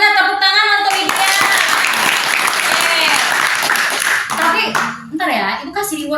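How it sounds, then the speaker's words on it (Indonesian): Schoolchildren in an Indonesian classroom clap for a classmate, a dense, steady burst of small-hand applause for about five seconds, with children's voices and a teacher speaking over it and near the end. "Tepuk tangan untuk Widya"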